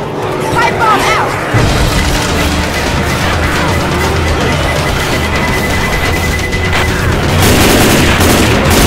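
Pipe bomb blast amid combat in Left 4 Dead 2, loud booming explosions and scattered gunfire in a continuous chaotic roar, with voices talking over the din.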